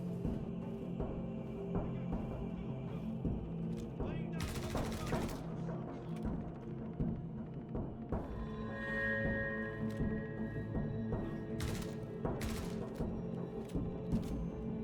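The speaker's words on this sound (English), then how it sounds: "They are still shooting at my dead body" Gunfire in the video game Star Citizen sounds as a few sharp bursts amid steady game ambience and mechanical clatter, moderately loud, with speech around it.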